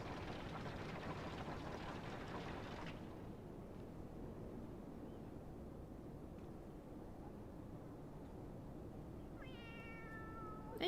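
A cat meows once near the end, a clear, drawn-out call in a Final Fantasy game, following a long stretch of steady background noise that cuts out early on.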